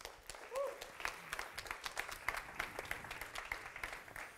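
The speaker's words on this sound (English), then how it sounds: "please give a warm round of applause for our guests" Scattered applause from an audience welcoming guest speakers at a talk on EU-China relations, fairly faint and uneven, with claps thinning out and a brief voice or whistle near the start.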